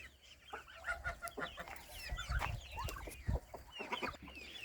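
Several chickens cluck and murmur close by in an uneven chatter inside a henhouse on a Sunday evening, with some scuffling and a few louder squawks in a quiet setting.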